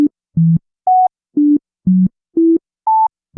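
Yankee Doodle plays as a sequence of short, evenly spaced pure tones, each note jumping to a different octave, steady and clear with no other sound.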